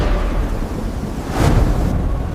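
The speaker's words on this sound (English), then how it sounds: "The storm reaches the nest before the father does." A storm over the Western Ghats forest in India, a dense rumbling wash of wind and rain, loud and continuous with a surge of roaring noise about halfway through.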